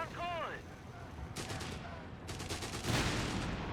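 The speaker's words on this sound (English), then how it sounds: "6-pounders chipping away at that Stug." British 6-pounder anti-tank guns fire on a StuG assault gun in Company of Heroes 3, with sharp distant shots and crackling battle noise in a busy game mix after a brief whistling tone.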